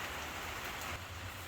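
Rain falls steadily on a DIY carport roof, a soft, even hiss of drops heard from under the cover, faint and continuous.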